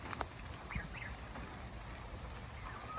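Geese kept with chickens on a homestead give a few short, faint honks over steady low rumbling background noise.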